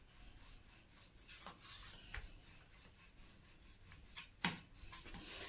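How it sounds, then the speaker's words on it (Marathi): Potato paratha dough, a fasting-style recipe, is rolled thin with a rolling pin, producing quiet, close, rhythmic rubbing and scraping strokes with a few soft knocks. "लाटताना आपला पातळ असा पराठा लाटून घ्यायचा आहे व्यवस्थित."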